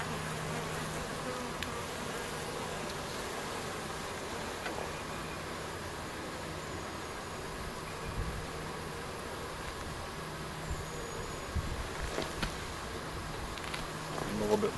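Agitated honeybees buzz steadily around an open hive, a dense close drone with occasional soft bumps and handling noises.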